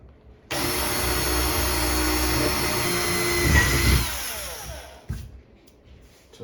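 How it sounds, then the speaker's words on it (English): A power drill with a 3/16 bit bores holes while kitchen cabinets are being installed. A steady high whine runs for several seconds, then spins down and stops, followed by a few faint clunks. "with a 3/16 drill bit, you're gonna drill the holes."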